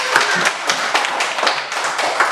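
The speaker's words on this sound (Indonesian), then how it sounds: "Iya, tepuk tangan." A group claps hands together in a classroom, a loud, close patter of uneven overlapping claps that continues throughout.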